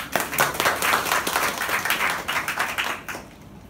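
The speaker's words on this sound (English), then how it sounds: "Can you give them a round of applause?" An audience at a parenting talk claps for the fathers present, a dense round of applause with many overlapping hand claps that holds steady, then tapers off near the end.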